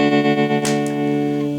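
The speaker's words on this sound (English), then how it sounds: "So tremolo's working fine." A Gibson GA-15 RVT guitar amplifier plays a sustained chord with its tremolo engaged, the tone pulsing steadily in volume. The sound is loud and close, with a brief burst of pick noise partway through and no talking.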